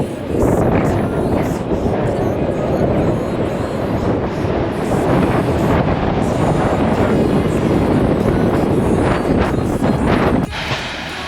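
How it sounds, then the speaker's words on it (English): Strong wind on a beach buffets the microphone in a loud, continuous roar that sweeps up and down, with surf-like rumble underneath. "If I put the camera on there, you can hear the wind."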